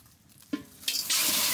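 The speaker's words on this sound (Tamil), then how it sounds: "Oh, they added water also." Water poured into freshly made pomegranate juice in a village outdoor cooking setting: a few splashes, then a steady, hissing pour that grows louder and continues to the end.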